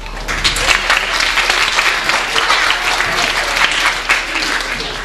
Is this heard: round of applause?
yes